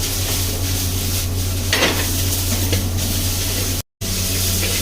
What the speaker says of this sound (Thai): เดี๋ยวผัดเส้นให้หอมก่อนนะครับ ผัดไฟแรงเลยนะครับ